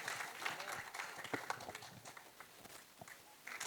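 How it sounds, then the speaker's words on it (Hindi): An audience applauds Aadhi Pinisetty at a celebrity event, with a scattered, fairly faint burst of clapping that rises and thins over a few seconds. "आदि पिनिसेट्टी साहब के लिए जोरदार तालियां."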